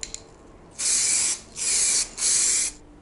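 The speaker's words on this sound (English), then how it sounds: "So now it's time for some stone chip spray paint." Three long hissing bursts from an aerosol can of stone chip spray paint on a Mazda MX-5 NA Miata fender, close up, each lasting about half a second with brief gaps between.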